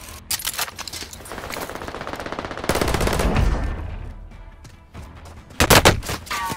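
Bursts of automatic gunfire from Call of Duty: Modern Warfare on the Fortune's Keep map rattle in rapid volleys, some near and sharp, others duller. The firing runs almost continuously, with a short lull before a loud final burst.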